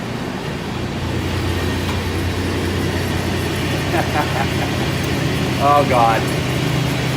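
A car with a welded differential sits in drive with one wheel spinning freely, giving a steady low mechanical drone and hum. A voice briefly exclaims over it.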